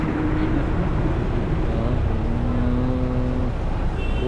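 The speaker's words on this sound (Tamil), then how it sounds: "கடை வீதியெல்லாம் ஃபுல் டிராஃபிக்குங்க" Heavy traffic along a crowded shopping street in Kodaikanal, a dense continuous roar of engines close by, with passing vehicles and faint horn-like tones rising through the rumble.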